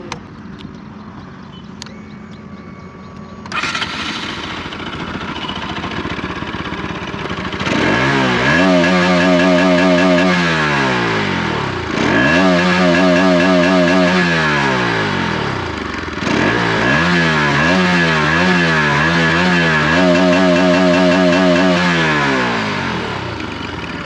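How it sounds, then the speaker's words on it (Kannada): A Bajaj Pulsar RS 200 sports motorcycle, BS3 version, idles close by, then its exhaust revs up loudly three times in rising and falling sweeps, settling back to idle between blips, with no talking. "ಈ ಗಾಡಿದು ಒಂದು ಸರಿ ಎಕ್ಸಾಸ್ಟ್ ನೋಟ್ ಕೇಳಿಸ್ಕೊಳ್ಳಿ"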